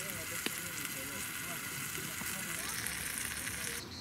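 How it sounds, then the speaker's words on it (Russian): Food frying in a hot pan gives off a faint, steady sizzling hiss with occasional soft pops. "И кладем на сковородку на раскаленную."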